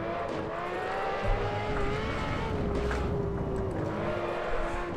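A Ferrari LaFerrari at full throttle around Spa-Francorchamps in Assetto Corsa gives a sustained, fairly steady engine drone with a high tonal whine, heard from inside the car with no speech.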